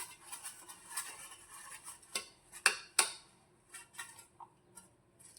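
A spoon spreading half a spoonful of oil over a medium-sized metal plate, heard as light scraping and clinking taps at an uneven rhythm, close and quiet, with no voices.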